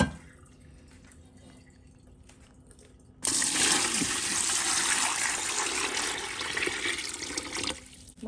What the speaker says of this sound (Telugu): ఇప్పుడు మళ్ళీ మంచినీళ్ళు పోస్తున్నాను దీంట్లోని